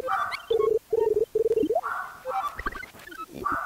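Dogs bark in rapid, overlapping bursts, some high and yelping, fairly close and loud, with a brief pause midway before the barking resumes.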